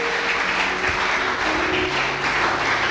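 A church congregation claps and cheers together during a worship service, a thick, sustained wash of applause with some raised voices and tones ringing underneath.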